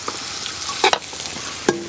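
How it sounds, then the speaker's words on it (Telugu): Onion and green chilli pieces sizzle steadily in hot oil in a home kitchen pan, with a few sharp clinks of a spatula stirring against the pan. "ఇప్పుడు ఇందులో ఉల్లిపాయ ముక్కలు వేసుకుంటున్నా. అలాగే పచ్చిమిరకాయ ముక్కలు కూడా వేసుకుంటున్నాను."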